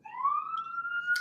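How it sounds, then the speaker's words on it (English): A siren passes outside a fire department headquarters, its single wail climbing steadily in pitch and holding loud and clear throughout, with no talk over it. "you got a siren going by me here at headquarters"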